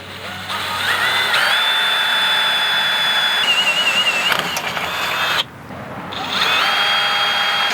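A power drill boring holes to mount a trailer wiring harness bracket on a vehicle, loud whining motor runs that rise and shift in pitch, stopping briefly before revving again, close by.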